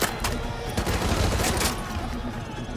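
M240 machine gun fire in the Call of Duty: Modern Warfare 2 campaign remastered, heard as dense, overlapping bursts of close, loud automatic shots rattling continuously, with several weapons firing at once.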